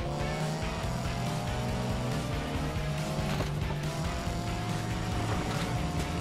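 A race car engine roars steadily off the start line in Need for Speed Payback, loud and continuous with rising gear pitch, tires and surrounding traffic blending into the drone.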